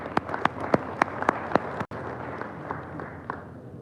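An audience at a live event welcomes a speaker with sharp, scattered clapping that is strong at first and thins to a softer patter after a brief cut, with a faint murmur beneath.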